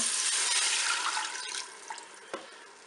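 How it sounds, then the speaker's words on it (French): Broth poured into a Cookeo multicooker pot, seasoned with salt, pepper and curry for a turkey roast with lentils, giving a steady close splashing pour that tapers off into a few faint drips. "Et je vais verser mon bouillon."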